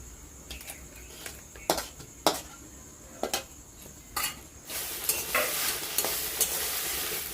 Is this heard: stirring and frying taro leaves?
yes